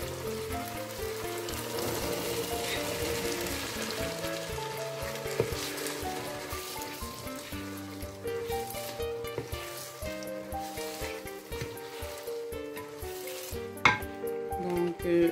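Beans hiss and sizzle steadily in hot oil for Cameroonian fried beans, a soft continuous crackle with occasional stirring scrapes and clinks, no voices.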